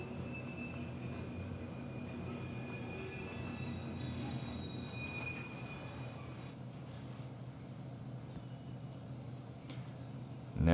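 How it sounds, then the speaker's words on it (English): Switch engines pulling a short train in a railroad video game give a steady low engine rumble and rolling noise with faint wheel squeals, moderate and continuous, ending in a sudden louder burst. "And here we have our little train"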